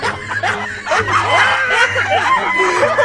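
A chicken clucking and squawking in agitated bursts while being handled on a farm, close and loud, with people laughing and calling out around it.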